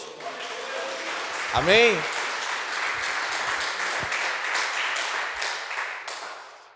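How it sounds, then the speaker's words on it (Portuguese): A church congregation applauds in a broad wash of clapping that swells and then slowly fades, while a preacher's voice speaks over it. "Dê um aplauso ao Senhor Jesus."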